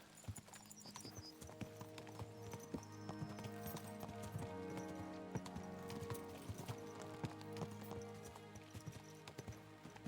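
Rapid horse hooves clatter along steadily in the video game Kingdom Come: Deliverance 2, beneath a continuous bed of music, with occasional faint sharper clicks throughout.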